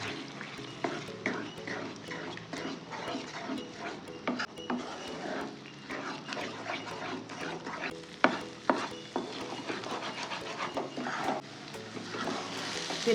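Beaten egg mixture is stirred around a hot pan for a quick lunch box dish, a busy run of scraping and tapping strokes over a steady sizzle, close and continuous.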